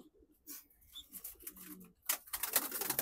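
A female racing pigeon, recovering from an injury, gives soft, faint coos near the coop. Light rustling and shuffling sounds come through between the calls.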